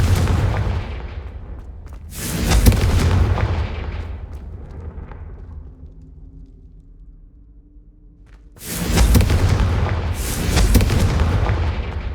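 Confringo fire spells blast in Hogwarts Legacy, two heavy booming explosions with rumbling tails, one near the start and one near the end, separated by a quieter lull.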